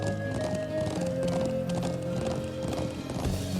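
A horse gallops with steady, even hoofbeats and whinnies in The Legend of Heroes: Trails of Cold Steel, heard under game music and ambience.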